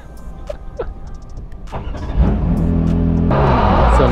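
Porsche 992 GT3 Cup race car engine starting up inside the cockpit, a whir and a catch, then a loud steady idle with rich low rumble that jumps in intensity near the end.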